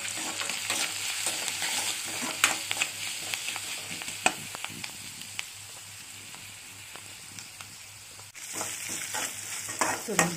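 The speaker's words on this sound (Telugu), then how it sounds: "తాలింపు చక్కగా వేగిపోయింది." Onions and chana dal sizzle in a tempering, stirred with a spoon that scrapes and taps the pan repeatedly over a steady frying hiss, with a brief lull before the sizzling rises again.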